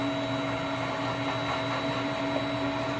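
Shop vacuum drawing fluid out of a 350 Chevy engine on a 1999 Tahoe during a head gasket replacement, a steady loud droning whine with constant hum and no breaks, close by.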